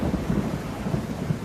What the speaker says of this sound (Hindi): बाहर जोरों की बारिश शुरू हो गई